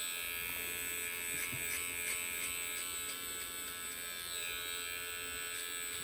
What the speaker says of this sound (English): just a little bit of clipper over comb here